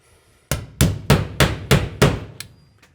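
Six loud, evenly spaced hammer blows drive a water filter mount into position, ending with a lighter final tap.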